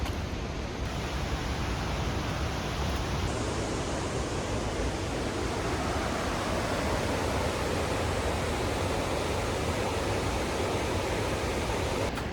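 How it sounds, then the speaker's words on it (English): Upper Wallace Falls in Western Washington, a loud, steady roar of rushing waterfall water that fills the whole span without break, close and constant with no voices. "The sound of the water is getting closer as we get to the top of this hill."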